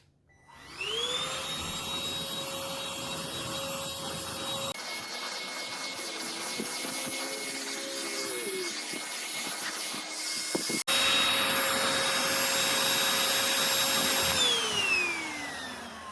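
An Oraimo H3 cordless vacuum cleaner whirs up to a loud, steady high-pitched whine, dips to a lower tone midway, then rises again before winding down, close and continuous without talk.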